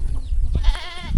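A goat on a rural farm near the Laos–Vietnam border lets out one loud, wavering bleat close by amid outdoor rumble.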